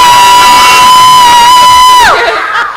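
Children cheer for the green team at a kids' team event: one strong, sustained high-pitched shout held for about two seconds, then it breaks into scattered, fading cheers.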